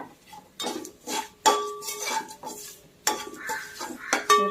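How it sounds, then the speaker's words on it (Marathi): Crushed garlic frying crisp in a pan, with repeated scraping and clinking of a spoon as it is stirred over a light sizzle, a close and busy rhythm of strokes. "लसूण देखील चांगला क्रिस्पी फ्राय करायचा यामध्ये"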